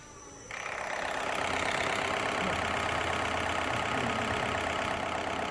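A diesel engine with common rail injection catches after a brief start and then idles steadily, a loud, even, rough rumble close by for the rest of the clip.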